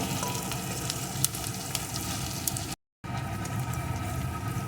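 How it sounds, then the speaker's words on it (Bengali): Crushed garlic and chopped onion sizzle steadily in hot oil for a crab curry, a dense continuous frying hiss with a few sharper crackles and a brief dropout partway through; no voices. "রসুনটাও পেঁয়াজ কুচির সাথে একটু ভেজে নেব"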